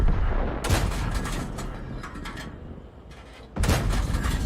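Artillery rounds and tank fire boom in a tank video game, several heavy blasts with rumbling decays, a big hit near the start and another loud impact close to the end.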